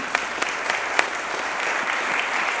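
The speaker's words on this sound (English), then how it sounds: "I want to give them a round of applause." An audience claps for trip organizers in a church or meeting hall, a dense, steady patter of applause with a few sharper near claps, running throughout.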